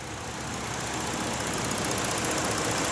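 2013 Ford Taurus engine running, a continuous dense rumble with a broad hiss, steady and close throughout with no talking.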